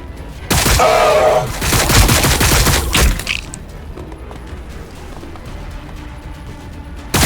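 Heavy gunfire in the Warhammer 40,000 Battlesector video game, loud rapid volleys for about three seconds that then fade to a low rumble and distant crackle.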